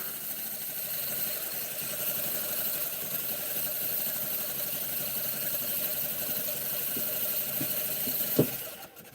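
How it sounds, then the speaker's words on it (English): A small engine that does not self-start idles steadily at close range for about nine seconds, a continuous even hum with a brief clunk near the end. "This is a pretty sweet little engine, to be honest."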